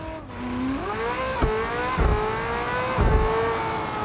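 A car engine in a racing video game, revving steadily with the pitch climbing through gear changes, alongside a few low thumps and bursts, loud and close with no talk.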